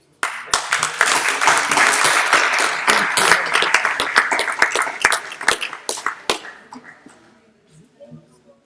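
Audience applause at a UK religious convention, a loud burst of many hands clapping that begins abruptly, holds steady, then thins into scattered claps and fades near the end.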